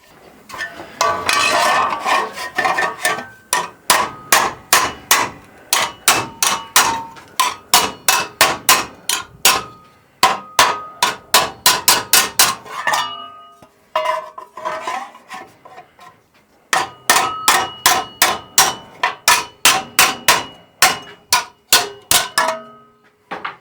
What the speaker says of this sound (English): I'm sure a block of steel and a hammer will finish it off quite nicely.